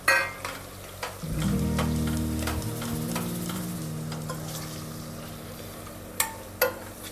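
Papdi, cauliflower and guar beans stirred in hot oil for undhiyu, a loud sizzle that rises as the vegetables drop in and then eases, with spoon scrapes and clinks against the pan.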